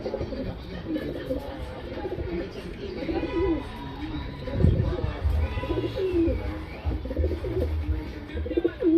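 An old-lineage patta breed pigeon coos close by in a run of repeated, soft, low coos over faint background noise.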